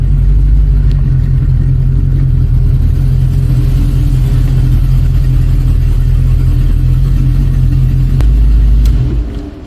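Chevy Vortec 350 V8 in a G-Body Cutlass being driven, a steady loud low engine rumble with mild revving throughout, easing off and fading near the end.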